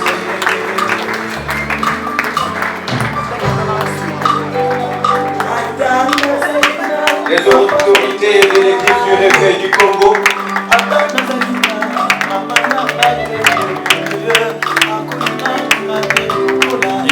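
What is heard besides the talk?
congregation applauding church authorities entering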